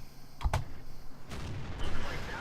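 Tank cannon fire in World of Tanks during a Tiger II battle: a sharp double crack lands early, then a duller thump follows, over a low game rumble with a voice talking faintly.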